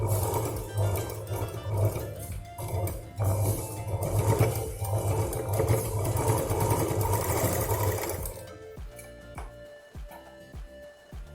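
A sewing machine stitches a small key chain purse, running in a loud, steady whir for about eight seconds before stopping, followed by a few quieter scattered clicks.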